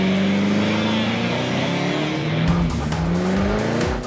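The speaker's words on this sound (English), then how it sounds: "Ready to burn some rubber? Do it! And our taxi driver is ready to strip those tires." A taxi with bald rear tires does a burnout, its engine roaring loudly while the tires squeal in a long rising screech, then break into harsher skidding noise near the end.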